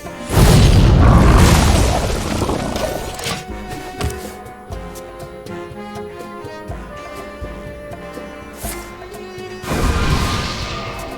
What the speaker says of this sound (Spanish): ¡Explota!